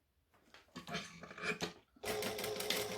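A home sewing machine stitches Alpine Shorts fabric, starting with short, uneven bursts of needle clatter and then settling into a steady, fast run for the last second, close to the listener.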